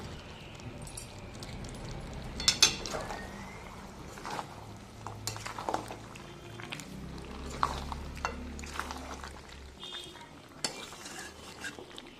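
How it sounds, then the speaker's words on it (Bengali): Mutton curry stirred in a pot with the lid off, giving soft scraping and clinks of a spoon against metal over a low simmering bubble, quiet and close. "ঢাকা সরিয়ে আমি মাংসটাকে আবারও নেড়ে দেবো।"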